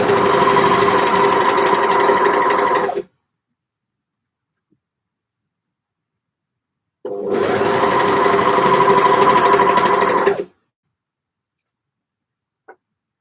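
A sewing machine stitches knit fabric in two steady, loud runs of about three seconds each, separated by a few seconds of silence, with a faint click at the end.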